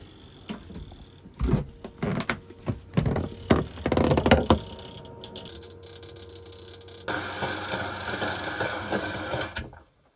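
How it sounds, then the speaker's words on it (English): An automatic bilge pump kicks on aboard a leaking boat, a steady mechanical hum that starts up after several sharp clicks and knocks, then runs on evenly with a slightly louder whir toward the end. "The automatic bilge pump works."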